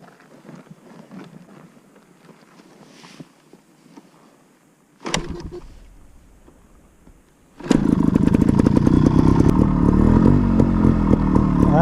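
A Gas Gas 300 two-stroke trials motorcycle starts up partway through and then runs loud and steady up close, a continuous close engine drone after quieter handling noises and a brief burst.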